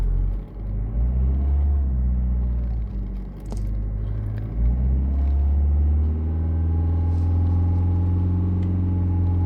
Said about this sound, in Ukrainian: Машина гуде, реве, нормально все.